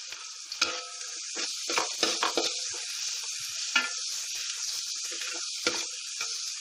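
Sliced onions sauté in a pan with salt for kappa biriyani, giving a steady bright sizzle punctuated by several sharp scraping stirs, close and without talk.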